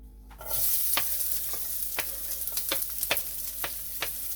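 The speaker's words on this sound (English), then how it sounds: "we are going to first add in the onions and the garlic and get those cooking" Onions and garlic hit hot oil and start a loud steady sizzle, with regular scraping strokes of a spoon against the pan about every half second.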